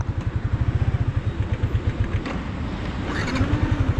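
A Yamaha Exciter 155 ABS motorcycle engine starts and idles with a rapid, steady putter, then revs and rises in pitch, close and loud, with no voices.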